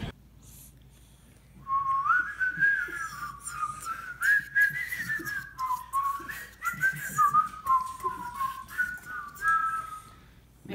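A person whistles a wavering, fairly quiet tune in a long continuous phrase with small breaks, over faint low background rumble.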